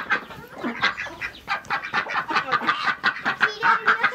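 Baby chicks in a farm coop give a busy chorus of overlapping clucks and cheeps, close and fairly loud, pulsing continuously with no voices over them.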